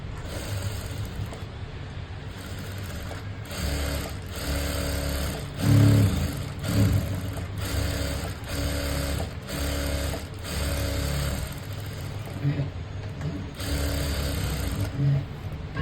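Sewing machine stitching a lining onto a ready-made sleeve border, whirring in bursts of a second or two with short pauses and mechanical clicks between runs; a voice speaks at times over the machine.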